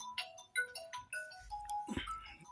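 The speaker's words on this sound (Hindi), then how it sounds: "फोन आ रहा है।" A melodic phone ringtone for an incoming call chimes in a quick sequence of tones, fairly faint and close, with no talking over it.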